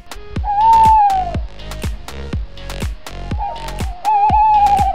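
Owl hooting, a wavering whistled call repeated twice over a steady rhythm of sharp percussive taps, loud and close.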